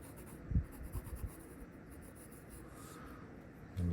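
A pencil sketches quickly on paper, making a faint, close, scratchy rubbing with a few brief louder strokes at the start, set against a quiet room with no talking.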